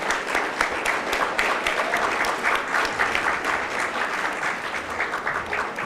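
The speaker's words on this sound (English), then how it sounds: "I request the audience for one big round of applause for our guests tonight." Steady, dense audience applause for guests at an evening university talk, a continuous crowd of many hands clapping throughout at even loudness.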